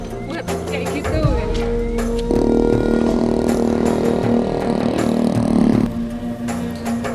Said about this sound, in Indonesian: Suara motor dari ojek gunung meraung-raung mendekati kami